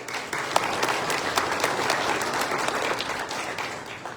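Audience at a candidates debate in Malpeque applauds, a dense, steady wash of many hands clapping, fairly loud and sustained throughout without talk.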